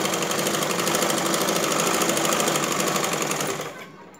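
A sewing machine stitches a blouse with a rapid, steady mechanical whirr. The close, continuous chatter runs for a few seconds and then cuts off.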